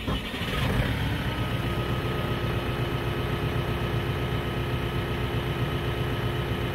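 An old tractor engine cranks and catches, then settles into a steady, continuous idle that runs on alone at moderate loudness.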